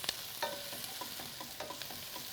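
Onions sautéing in a pan, with spices and crushed red pepper, give off a soft, steady sizzle and a few scattered stirring clicks and scrapes, close by, with no talking.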